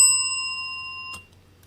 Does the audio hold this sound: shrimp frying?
no